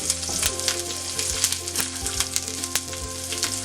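Curry leaves and coriander hit hot oil for a coconut chutney tempering, giving a steady close sizzle and crackle with sharp pops scattered throughout and no talking.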